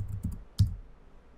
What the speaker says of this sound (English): In the Search Plugins field, we'll type in Redirection.